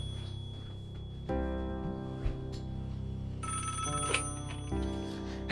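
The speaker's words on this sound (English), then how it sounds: "Phone call for you, Mark dearie." A telephone ringtone in a family kitchen scene, an electronic melodic ring in stepped tones that shift several times over a few seconds, fairly clear against a quiet room.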